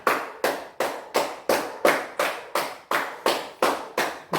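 Children clap together as the memory game winner, Arjun, receives a medal: a steady, evenly paced run of about a dozen crisp unison claps, near and alone without voices.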